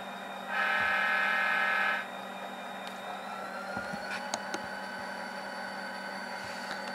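Kato SD40-2 model locomotive in custom-painted DME Mt Rushmore #6359 livery, fitted with a Tsunami sound decoder: a loud horn blast of about a second and a half rises over a steady engine hum, followed by faint clicks.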